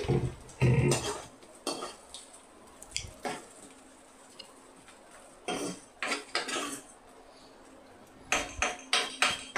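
A utensil stirs potato, carrot and capsicum curry in a pan, giving scattered scraping and clinking knocks in irregular bursts, some close together, over quiet sizzling background without speech.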